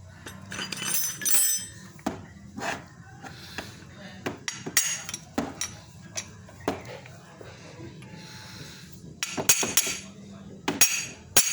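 A hammer taps a disc brake caliper piston back into its bore, giving a string of irregular, sharp metallic knocks close by over a quiet workshop background.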